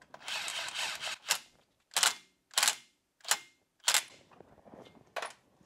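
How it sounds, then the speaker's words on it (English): An impact wrench gives short, sharp bursts of rattling hammering on a rear brake caliper bolt of a Cadillac CTS, about six quick taps spaced roughly half a second to a second apart, close and crisp with quiet gaps between. "I just kind of tap it real quick with the impact gently."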